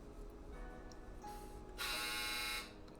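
A household clothes dryer hums steadily nearby, then a loud, harsh buzz cuts in for under a second before the hum carries on alone.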